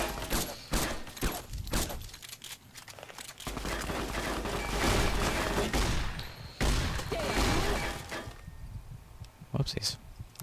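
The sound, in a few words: gunfire in video game Fallout New Vegas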